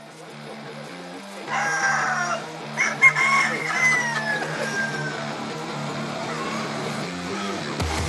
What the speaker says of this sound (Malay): Sabung ayam di sebalik penempatan haram.